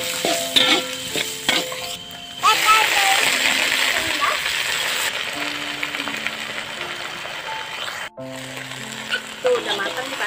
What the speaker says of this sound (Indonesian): Kita mau masak kangkung ya, bumbunya biasa, di oseng-oseng, bawang merah, bawang putih,